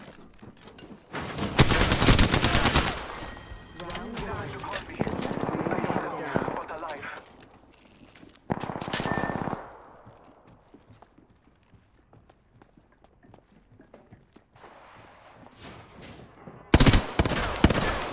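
Automatic gunfire from enemy players in Apex Legends rattles in several loud bursts, with short volleys separated by quieter gaps and a final sharp burst at the end.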